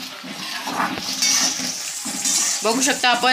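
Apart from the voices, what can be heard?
washing eggplants in water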